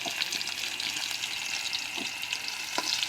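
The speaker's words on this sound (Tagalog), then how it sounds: "Kasi haluin natin" Squid balls sizzle and fry in a pan as they are stirred. A steady close crackle runs throughout, with occasional soft scrapes and knocks from the stirring.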